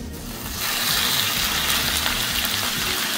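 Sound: beef steak frying in hot oil in a pan

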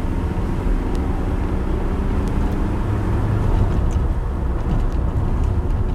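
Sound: Suzuki Jimny 1.3 four-wheel drive accelerating on road

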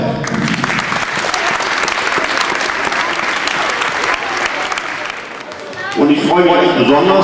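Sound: applause at youth indoor football tournament

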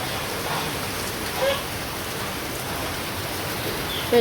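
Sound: rain falling

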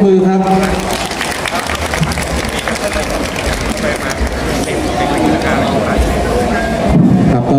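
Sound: audience applause at temple centenary ceremony

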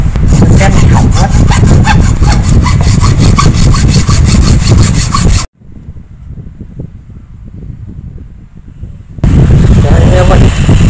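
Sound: sawing a tree branch

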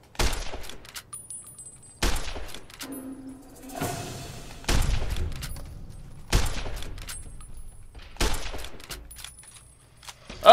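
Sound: varmint rifle gunfire in the video game Fallout New Vegas

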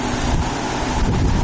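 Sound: gust of wind blowing behind the speaker

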